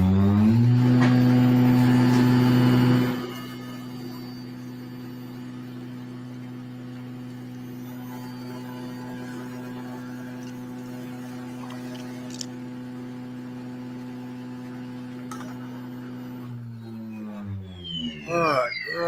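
A Rodin coil spins up, giving a loud steady electric hum that drops after a few seconds. A quieter tonal whine then holds until it winds down at the end.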